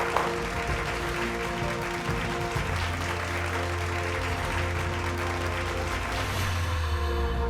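Audience applause at a Bhojpuri award ceremony, a dense, steady clapping crowd that holds for several seconds, with a low hum of music underneath.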